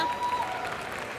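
A crowd claps and cheers at a curling match, a brief, steady burst of applause in an arena with a faint whistle-like tone in the background.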